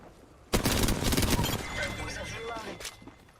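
Bursts of rapid gunfire in the video game Apex Legends, opening with a loud, sudden fusillade and then trailing into quieter scattered shots, with a player voice talking over it.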